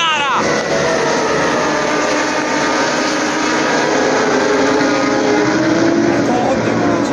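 Superbike motorcycles race into a corner at the Cremona Circuit, a loud, continuous high-pitched engine roar with shifting whines as the bikes pass close, and people talk over the noise.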